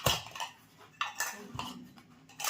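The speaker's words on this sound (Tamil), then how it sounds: "இது வந்து டபரா செட் பிரியாணி டேக்ஸா" Metal dabara set cups and a biryani pot clink and clatter as they are handled, several close, sharp knocks and rattles spaced over a couple of seconds.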